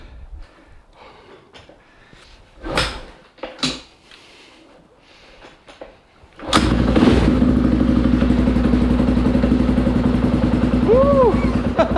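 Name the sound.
motorcycle engine running in cold weather with choke off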